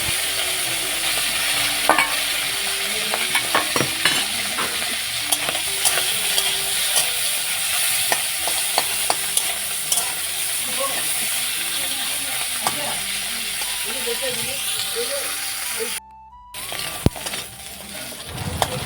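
Dried fish sizzling in hot oil in a pan, a steady crackling hiss with scattered sharp pops and spatters, close and continuous, broken by a short gap near the end.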